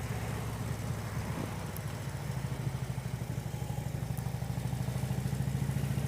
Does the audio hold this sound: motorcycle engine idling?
yes